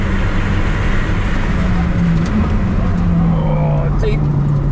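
Mazda MX-5 Miata engine after an upshift into fifth gear on the track at Broadford Raceway, a loud, steady drone with a low tone that climbs slowly, heard from inside the car under continuous wind and road noise.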